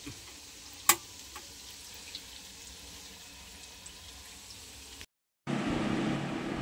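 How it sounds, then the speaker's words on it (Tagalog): Steady, quiet sizzling of tofu frying in oil, with a sharp clink early on, a brief dropout, then louder crackling. "Habang po tayo nagpiprito ng tokwa"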